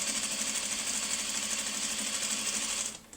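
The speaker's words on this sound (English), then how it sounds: "I've got a seam going under my needle right now" A sewing machine stitches a quilt top seam in a fast, steady run of needle clatter and motor whir, close up, stopping abruptly near the end.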